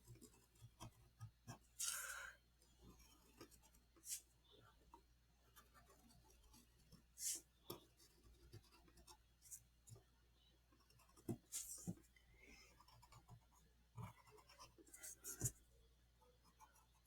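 Black colored pencil shading in a three-point perspective building drawing, giving a faint, close scratchy patter of irregular strokes with occasional sharper taps, no talking.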